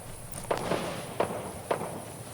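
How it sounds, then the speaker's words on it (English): Explosions in the Fortnite Battle Royale video game, three or four short sharp popping blasts spaced about half a second apart, moderately loud over a quiet background hum. "Plenty of explosions going on."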